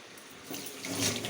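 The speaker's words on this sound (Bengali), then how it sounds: "এখন মোটরটা ভরলো, বন্ধ করলাম, খালি ছিল ট্যাঙ্কিটা।" Water pumped by a motor rushes into an empty storage tank, a steady broadband splashing and pouring that swells louder after the first half second. No one speaks.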